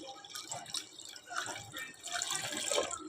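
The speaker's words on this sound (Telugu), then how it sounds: "ఇలా 1 గ్లాస్ వాటర్ వేసుకోవాలి" Water splashes and trickles into a pot of mashed dal for mango dal, a running, bubbly pour that grows louder toward the end, fairly close and faint overall.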